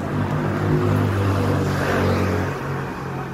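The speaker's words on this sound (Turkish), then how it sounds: "Ürünümüz sahnelerin en büyük boylu, en büyük ebatlı köpük makinesidir." Large stage foam party machine with its motor running, a steady close low mechanical drone and rumble that holds throughout, with no voices.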